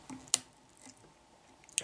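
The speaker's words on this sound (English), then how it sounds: "Now I'm going to come in here with my scissors and trim out" Scissors trim braid material on a crab fly at a fly-tying bench, making two crisp, close snips about a second and a half apart against near silence.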